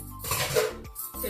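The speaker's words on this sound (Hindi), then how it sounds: "बर्तन धुल लेती हूँ थोड़े" Dishes being washed by hand, with pots, pans and cutlery clinking and scraping in a few close bursts separated by brief pauses.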